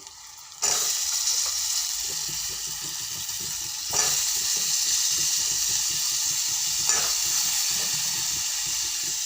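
Diced potatoes and eggplant with red chili powder hit hot oil in a pan for a Vidarbha-style aloo-vangi curry, bursting into a loud, steady sizzle with a few sharp stirring scrapes along the way.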